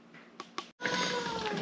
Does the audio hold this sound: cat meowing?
yes